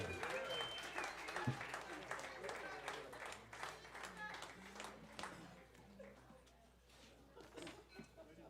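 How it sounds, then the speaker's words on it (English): An audience at a swing night gives a big band sustained applause, a dense wash of clapping that gradually thins and fades, with a voice speaking over it. "give this great big band another big round of applause"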